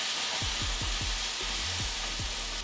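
Tomato pieces fry in hot oil for a Coorg-style chicken fry tempering, giving a steady close sizzle with a few soft stirring knocks from the pan, with no talking.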